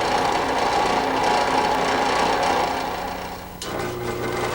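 A drill press runs steadily as it bores into a piece of wood, giving a close, continuous mechanical whine and grind that dips briefly near the end before going on.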